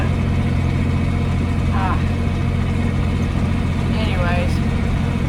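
A John Deere 4230 tractor engine runs at a farm peanut picking, a loud, constant low rumble and drone filling the scene, with a voice speaking briefly over it.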